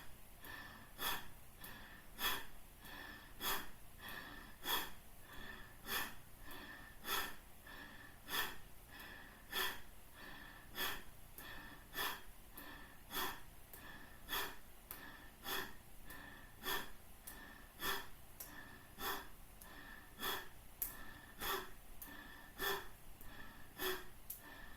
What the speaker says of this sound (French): Respiration puissante et mouvement rythmé.